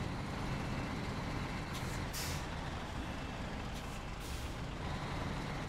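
A big truck in SnowRunner runs with a steady loud engine rumble throughout, with faint air-brake hisses and beeping from reversing layered on top.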